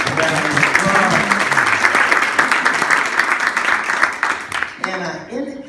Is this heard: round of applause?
yes